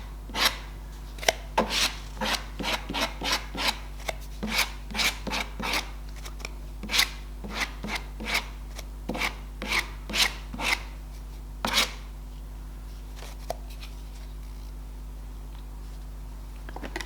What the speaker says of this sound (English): Now I'm going to start scraping again.